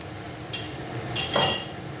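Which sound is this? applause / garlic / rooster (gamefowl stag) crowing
garlic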